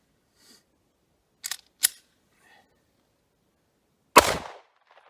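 Single close, sharp gunshot of a 100 gr Remington HTP 30 Super Carry round fired into ballistic gel, preceded by a few quiet mechanical clicks and followed by near silence.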